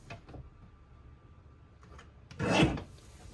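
A paper trimmer blade slicing a 4 1/4 by 12 inch cardstock strip during card-kit crafting, one short rasping cut near the end after quiet handling rustles.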